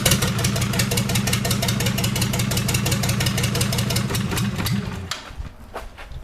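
An Isuzu six-cylinder diesel engine, out of its chassis for two years and short on fuel, cranks over on a cold start with a loud, rapid rhythmic churning that sputters and dies away near the end, followed by a brief exclamation.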